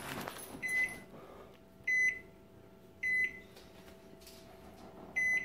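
A microwave oven timer beeps four times at a steady interval of about 1.2 seconds, each beep short, clear and moderately loud over a quiet kitchen hum with no talking.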